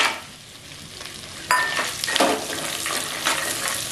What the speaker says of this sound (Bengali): বাদামটাকে একটু ভালো করে একটু লাল করে ভাজবো